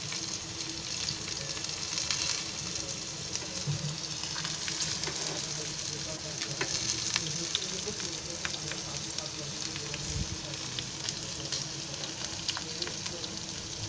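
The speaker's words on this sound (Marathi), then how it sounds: "मसाल्याची बाजू खाली नाही करायची, अशी भाजायची" Stuffed okra (bhindi) filled with spice masala frying in a pan of hot oil, giving a steady, dense sizzle throughout with small crackles and occasional stirring or scraping sounds, close and continuous.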